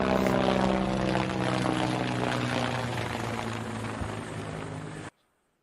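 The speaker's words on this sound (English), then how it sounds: "Oh, we got a helicopter." A helicopter flies overhead, a steady, loud whooshing rotor roar with a fluttering beat that fills the clip and then cuts off abruptly near the end.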